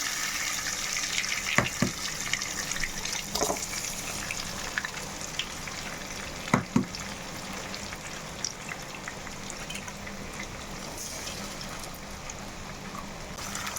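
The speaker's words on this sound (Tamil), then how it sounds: "இப்போ இதில் நான் ஒரு மூணு முட்டையை உடச்சி ஊற்றிக்கிறேன்" Three eggs are cracked and poured into a pan to fry, a continuous close crackling sizzle with a few sharp taps and splashes over it.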